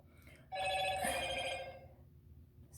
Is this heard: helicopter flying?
no